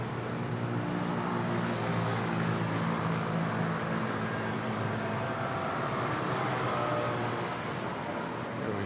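A passenger airplane roars steadily at Manila airport, a loud, continuous broadband rumble with a low engine hum that holds at constant strength throughout, close and unbroken.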